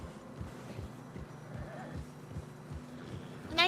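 Horse hooves clip-clop in Red Dead Redemption 2, a steady mid-distance trot on snowy ground with a short whinny near the end, under faint background sound and some game voice.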